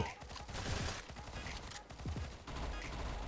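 Gunfire in The Origin Mission (Alpha Ace), a CS:GO-style mobile FPS game: several quick bursts of rapid shots in short clusters, moderately loud, with a brief pause between volleys.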